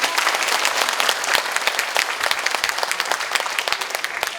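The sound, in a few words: audience applause at a lecture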